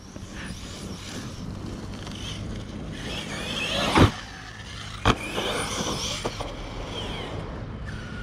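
A red Kraton 6S RC car's electric motor whines and buzzes nearby, steady at first, with two sharp bursts of acceleration and clattering impacts along the way.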